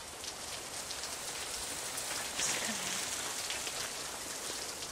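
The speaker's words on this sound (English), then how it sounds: "Coming out of the rain." Rain falls steadily in a dense, even hiss of drops striking surfaces, moderately loud and continuous throughout, with a faint low sound briefly rising in the middle.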